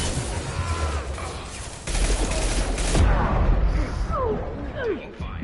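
Sustained gunfire from the sci-fi shooter Mass Effect 2: dense, loud bursts of shots with crashes and whizzing energy sounds layered through a running firefight, over game background noise.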